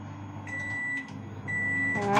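A microwave oven running in convection mode while baking a chocolate cake, giving a steady low hum with a faint fan whir and brief electronic tones.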